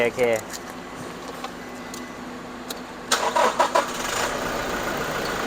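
A used Toyota Hilux Revo 2.4E four-door diesel pickup starts up: after quiet clicks and a faint jingle of keys, the engine cranks briefly and catches into a loud, rough idle, with a voice nearby.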